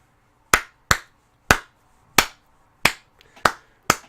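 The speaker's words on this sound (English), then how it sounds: "Golf clap." Seven slow, separate hand claps, sharp and close, spaced irregularly with short silences between them, with no voices.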